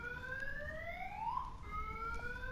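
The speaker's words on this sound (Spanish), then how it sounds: "acaba de sonar la alarma de un auto" A car alarm sounds in the distance behind a game soundtrack, its rising and falling tones sweeping and warbling steadily for the whole stretch over a low rumbling background.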